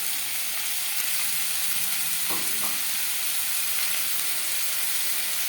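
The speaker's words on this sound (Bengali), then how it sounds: "ফুড তৈরি করার জন্য দিয়ে দিয়েছি রিফাইন্ড অয়েল এবার দিয়ে দেবো পেঁয়াজ কুচি আর দিয়ে দেবো আদা রসুনের পেস্ট" Chopped onions and ginger-garlic paste fry in refined oil for chicken momo filling, giving a dense, even sizzle that holds steady throughout with a couple of brief stirring clicks, close and moderately loud, no talking.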